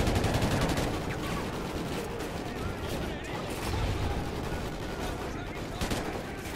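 Rapid gunfire fills a firefight in Call of Duty: Ghosts, dense bursts of automatic shots layered over each other with a constant loud chaotic roar.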